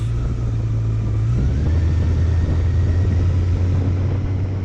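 Constant engine drone of a motorcycle riding carefully along hairpin roads in Telemark, Norway, a loud, steady low rumble that shifts pitch once as the rider changes speed, wind noise underneath, no talking.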